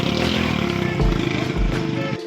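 A heavy motorcycle, an old bike, rumbles loudly close by on a busy market road in Karachi, its engine steady and dense with a couple of low bursts as it moves past, set against a noisy street.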